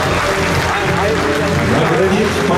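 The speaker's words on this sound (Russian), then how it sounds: "Под ваши аплодисменты!" Loud, dense applause from an audience at a veterans' gathering in Moscow marking the Soviet withdrawal from Afghanistan, steady and continuous throughout with crowd murmur beneath.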